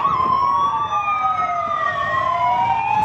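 A police bus siren wails steadily, its tone sweeping slowly up and down, loud and continuous over a faint background rumble with no voices.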